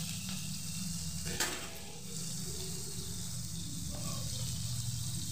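Green chilli pickle sizzling steadily in a hot pan as ground spices go in and get stirred through, a constant frying crackle with a brief scraping burst, no voices.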